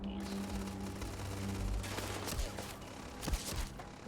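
Rapid bursts of gunfire at a shooting range in the video game Starfield, steady volleys of shots over about four seconds, fairly loud and continuous with no talking.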